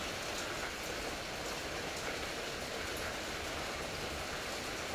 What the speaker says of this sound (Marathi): बघा किती पाऊस पडतो आहे ते.